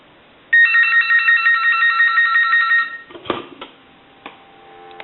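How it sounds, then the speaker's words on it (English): An Astral Telecom Galway crystal telephone rings with a rapid electric bell trill for a couple of seconds, then stops, followed by a few clicks and clunks of handling. "First, we want to ring the telephone."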